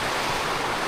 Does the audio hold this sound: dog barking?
no